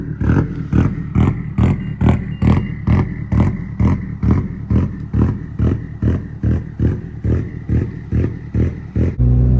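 An 800HP Subaru engine with Haltech rotational idle chops rhythmically, a fast steady train of loud, evenly spaced bursts and pops lasting several seconds, close to the car with no talking.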